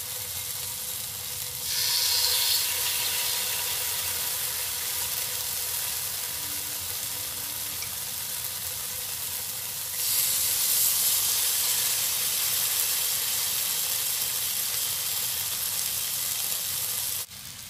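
Chicken tikka pieces sizzling in a pan over a lowered gas flame, a steady loud hiss that swells sharply twice as more pieces go in, with no talking.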